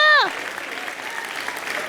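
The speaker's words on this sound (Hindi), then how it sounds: "मम्मी के लिए तालियां।" A burst of studio audience applause for a mother rises after a voice trails off and keeps going as a dense, steady wash of clapping from a crowd.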